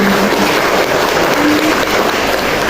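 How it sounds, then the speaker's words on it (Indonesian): A crowd claps at a family-planning and stunting-reduction event held by BKKBN in a hotel function room in Jember. The applause is loud, dense and continuous, a steady wash of many hands with no break. "Beri tepuk tangan dulu untuk kita pada pagi hari ini."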